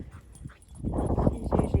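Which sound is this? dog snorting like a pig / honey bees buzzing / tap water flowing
dog snorting like a pig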